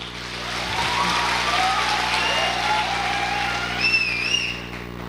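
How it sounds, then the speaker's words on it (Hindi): Applause from an audience at a Hindi-language business seminar, a steady wash of many hands clapping that stays even throughout, with scattered whistles rising above it near the end. "सॉरी सर, ये तालियां बहुत कम है मेरे अपलाइन के लिए।"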